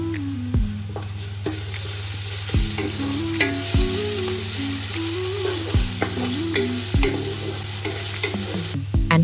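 Onions and crushed ginger garlic paste fry in hot oil, a steady sizzle with repeated spatula scrapes and knocks against the pan at irregular intervals, close and clear, with no voices.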